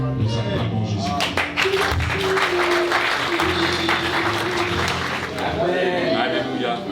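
Congregation applauding in church, a steady wash of many hands clapping throughout, with voices and singing mixed in underneath.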